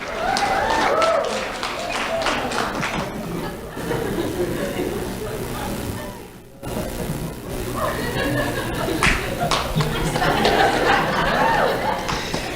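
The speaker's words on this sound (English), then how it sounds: "Let's have a round of applause for Suede Delva." Audience applause for a young award winner, a fourth grader, at a community Do The Right Thing awards ceremony, sustained clapping mixed with chatter and laughter, a brief dip midway, then swelling again.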